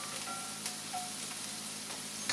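Vegetables and rice fry steadily in a hot pan for fried rice with a constant, soft sizzle, faint and even throughout, with a few light clinks near the end.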